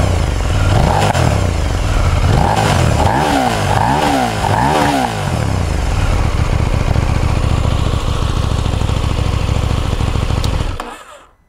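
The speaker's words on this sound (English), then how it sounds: "You can tell by how loud I'm having to speak, how loud the exhaust is." A KTM 890R motorcycle engine drones steadily with a raspy exhaust, rising and falling in a few quick revs early on before holding a rough, constant roar that cuts off abruptly.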